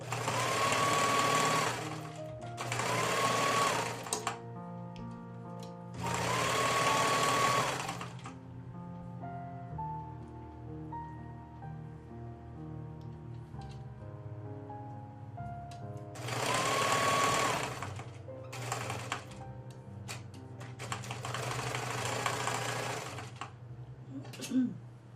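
Sewing machine stitching fabric for a drain bag pillow, several bursts of fast, rhythmic needle chatter lasting a few seconds each, loud and close, separated by quieter stretches where a person talks.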